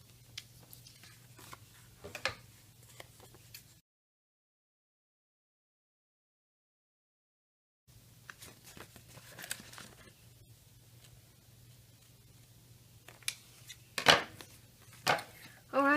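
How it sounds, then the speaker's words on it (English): Scissors make faint, scattered snips while cutting inked cardstock for a handmade paw birthday card, over a low steady hum. A silent gap falls midway, and a few sharper cuts come near the end. "I'm going to go ahead and cut it to shape now."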